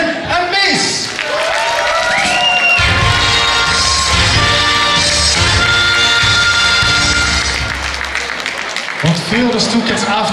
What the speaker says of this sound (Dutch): Morgen daarvoor een applaus voor de laatste keer voor het duo Vin en Mees.